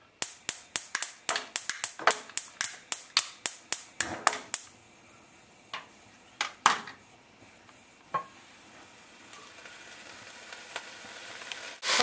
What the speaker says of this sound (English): so we got the meat in here sizzling